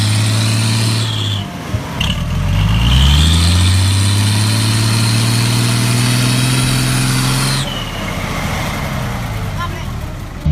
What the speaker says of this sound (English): The roar of the engine mixed with the screeching of the tires created a tense atmosphere.